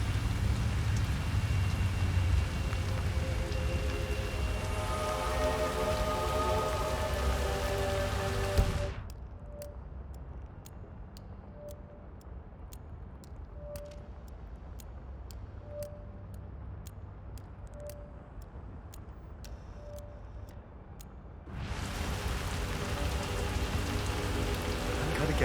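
Heavy rain in Hitman 3 hisses steadily, cuts to a muffled interior with faint regular ticks, then the loud downpour returns near the end.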